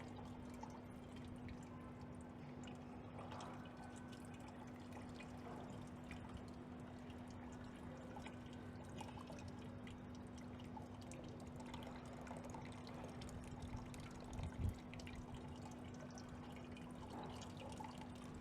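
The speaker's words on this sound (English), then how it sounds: "I'm rinsing all the sand from the upper edges all to one side." Water rinsing sand through a wash sieve, a steady low running and dripping wash that continues evenly throughout, with a faint steady hum beneath.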